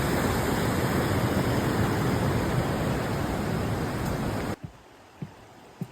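Cenarth Falls waterfall in Wales roaring steadily in the rain, a loud continuous wash of water that cuts off abruptly near the end, leaving a few faint footsteps.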